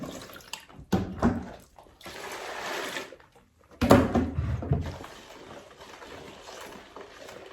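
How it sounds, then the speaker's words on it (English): Water poured into a clear container while mixing homemade multipurpose liquid soap, coming in uneven bursts of splashing and gushing with brief quiet gaps between pours. "you add the water little by little until it's 5 liters or 10 liters, 7 liters"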